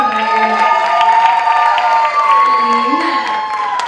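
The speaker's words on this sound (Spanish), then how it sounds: "Por favor, un fuerte aplauso para ella." A Miss Cuba US pageant gala crowd greets the next contestant with cheering and clapping over steady music, a loud, sustained blend of shouts, whoops and applause.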